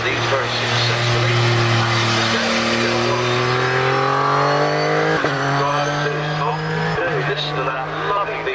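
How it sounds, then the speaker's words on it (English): Race car with a rear-mounted 2-litre Rover V6 climbing a hillclimb course, its engine note sweeping upward through gears with sharp shift breaks, loud and close, while a commentator speaks over it. "This one's got a 2-litre Rover V6 engine in the back, which sounds absolutely fabulous."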